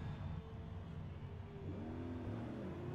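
Engine noise from GT3 race cars at Le Mans in Forza Motorsport, with a steady revving drone and a rising, sweeping pitch as another car passes close by.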